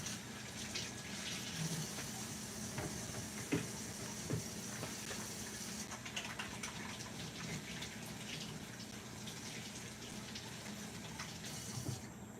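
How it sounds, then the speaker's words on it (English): Tap water runs steadily into a kitchen sink during hand washing, a continuous splashing stream that holds at one level throughout with a few small clatters, no voice present. "Okay, so gonna wash my hands."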